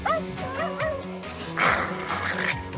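A dog yips and barks in quick, excited bursts mixed with whimpering, close by and fairly loud, with a sharper bark near the end.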